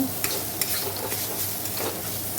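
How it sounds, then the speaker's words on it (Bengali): Banana stem frying in a little oil with black cumin and dried red chillies, a steady close sizzle and crackle with the scrape of stirring breaking through every so often. "আমি এখানে থোটটা ভেজে নিচ্ছি কালো জিরে শুকনো লঙ্কা ফোড়ন দিয়ে অল্প তেল দিয়ে"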